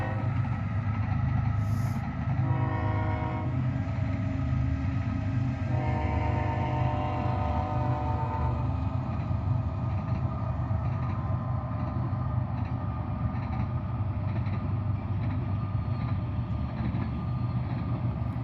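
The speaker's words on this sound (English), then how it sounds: "And we got a train coming." A train passes at a distance near an airport, a steady low rumble with a pattern of repeated tones partway through, no talking.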